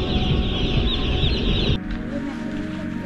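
Chickens cluck and squawk nearby aboard a passenger boat, a busy overlapping flock over engine rumble, with the clucking cutting off abruptly partway through and leaving a quieter hum.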